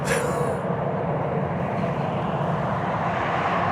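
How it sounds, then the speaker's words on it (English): A steady, broad roar of a jet airplane's engine taking off fills the whole stretch at constant loudness, with a brief hiss at the start and no voices. "you can hear the jet engine"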